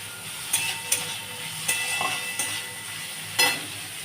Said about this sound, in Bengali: আমি এবার পেঁয়াজটা ভাজছি এখানে।